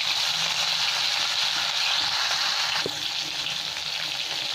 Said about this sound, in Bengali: তেলটাও খুব গরম হয়ে গেছে, এখানে মাছগুলো সব ভেজে নেব।